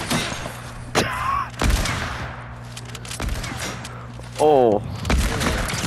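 Sniper rifle shots crack in a video game, several sharp loud reports spread across the span amid clattering game effects, with people talking and exclaiming over them.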